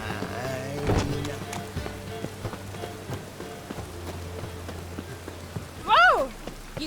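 Steady patter of rain in The Witcher 3 video game, with soft scattered drops, a brief sharp noise near the start and a short louder burst toward the end.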